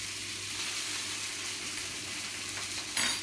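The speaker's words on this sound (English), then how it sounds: "I do like the sound of a frying sausage" Sausages for bangers and mash sizzle in a hot frying pan, a soft, continuous crackling hiss heard fairly quietly with no talking, plus a brief brighter spatter near the end.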